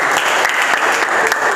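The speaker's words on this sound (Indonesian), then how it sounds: "Kita berikan aplaus" A classroom of students claps together in a dense, steady burst of applause, close and loud for a moment.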